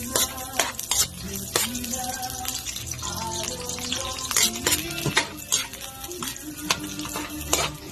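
Onions fry in a pan for pork kaldereta amid steady sizzling, with frequent metallic clinks and scrapes of a spoon stirring against the cookware.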